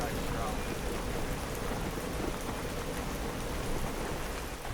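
Heavy rain pours down steadily and loudly in the south of Iceland during an outdoor running race, a dense continuous wash with no pauses.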